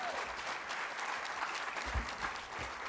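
Another full round of audience applause at the 2018 ArtWell Awards for the evening's honorees, a thick continuous clapping from a large crowd that stays loud and even throughout, with no voices.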